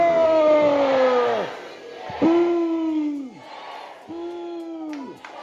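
A church congregation at a Catholic charismatic renewal mission-sending service in Congo shouts three long, rising-and-falling acclamations in unison, loud and reverberant, each held for over a second before trailing off.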